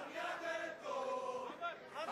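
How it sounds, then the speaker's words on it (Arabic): A crowd of Egyptian expatriate fans in the UAE cheers and chants to welcome the arriving Al Ahly team, a dense wash of raised voices swelling and falling steadily throughout. "نسمع صوت استقبال الجماهير وهتافهم الرائع في استقبالهم للأهلي."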